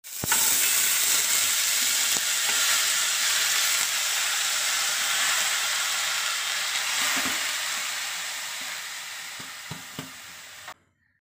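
Chopped vegetables fry in a hot pan with a steady, close sizzle that fades slightly over about ten seconds, with a few faint stirring clinks near the end and no talking.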